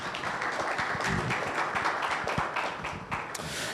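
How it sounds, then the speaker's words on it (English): Studio audience applause on a morning TV talk show, moderate continuous clapping with a few sharper individual claps. "A big round of applause for him"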